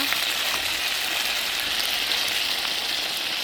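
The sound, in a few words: meat with bones frying in a pan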